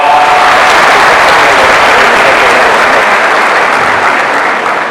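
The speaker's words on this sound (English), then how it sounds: "please give our international students a big round of applause" A large audience at a university welcome ceremony claps loudly and densely for international students, a continuous roar of close applause that tapers slightly at the end.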